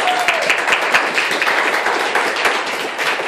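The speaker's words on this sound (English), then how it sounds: "give him a round of applause" A small audience at a poetry tournament's haiku joust gives a brief round of applause, sharp claps close by with a quick, uneven rhythm.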